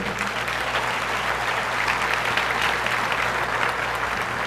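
A church congregation applauds during a Spanish-language service, a continuous wash of clapping at moderate level with a low hum beneath it throughout.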